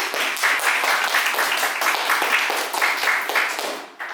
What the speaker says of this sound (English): let's invite them with a round of applause